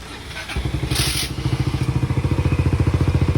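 Yamaha Mio i 125 scooter engine starting after a brief crank, then settling into a steady, close, pulsing idle with a rapid regular chug.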